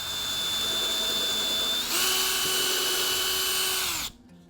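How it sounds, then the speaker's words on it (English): A power drill with a 1/8 inch bit drills a pilot hole through tape, whirring steadily, rising in pitch as it bites into the material, then cutting off abruptly near the end. "with an 1/8 inch drill bit, I'm going to drill a hole, a pilot hole"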